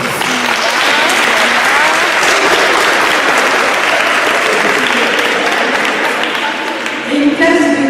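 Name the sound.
applause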